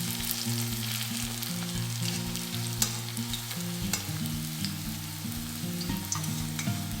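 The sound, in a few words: cabbage vadas frying in oil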